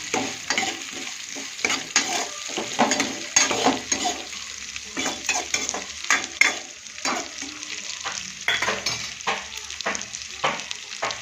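Three large chopped onions fry in a pan for rava upma, giving a steady loud sizzle broken by frequent scraping and stirring strokes of a spoon throughout, with no talking.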